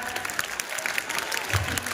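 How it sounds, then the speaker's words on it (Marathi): Schoolchildren clap together in a classroom after a yoga session, a dense, steady patter of many hands filling a short burst. "जोरदार टाळ्या वाजवा."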